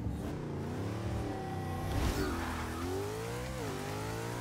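A Pontiac Trans Am with all-wheel drive launches on a quarter-mile run in the racing game Forza 6. The engine revs climb and shift in a rising, harmonic roar at moderate volume.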